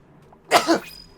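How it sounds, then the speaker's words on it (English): A single sharp sneeze bursts out after a quiet moment, a quick two-part blast that cuts off abruptly, in the video game Oxygen Not Included. "That sneeze doesn't help."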